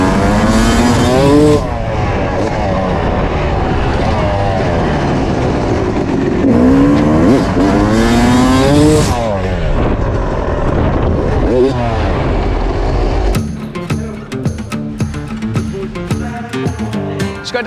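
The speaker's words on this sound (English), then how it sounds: "So let's just run the bike in a bit." A motocross bike engine revs loud and close at X Games Japan, pitch climbing and dropping with the throttle, then settles into a rougher running rumble.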